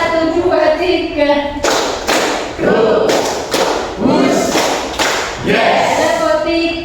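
A group clapping hands in a Malay/Indonesian counting clap game, bursts of claps in short rhythmic sets of one to three, close and fairly loud, alternating with a leader's spoken counts.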